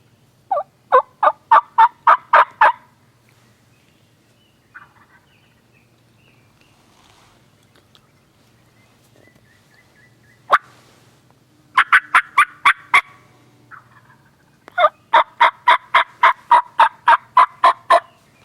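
A wild turkey in Kentucky gobbles in repeated rapid bursts at moderate distance, several rattling series separated by quiet pauses, with a single sharp call between them and open outdoor stillness around.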